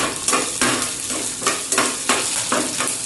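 Dried red and cut green chillies sizzle steadily in hot oil in a pan while being stirred, with a continuous frying hiss and several scraping strokes of a spoon, close and with no talking.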